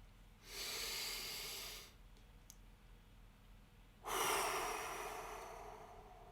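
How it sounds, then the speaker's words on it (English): A person takes one long, deep, loud breath in through the nose, then after a pause lets out an equally long, heavy exhale, both close and breathy against near silence. "Breathe in deeply before you meet someone new. Make it loud."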